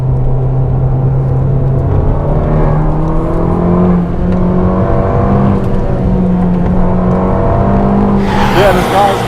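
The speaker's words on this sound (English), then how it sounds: "you can really hustle this gearbox and just punch the gears in, rev match your downshifts" A 2020 Abarth 595 Esseesse with a 180 hp engine revs steadily under load, its droning note rising and holding through a gear, then a sharp blip and rev-matched shift with brief whine near the end, loud and close from inside the car.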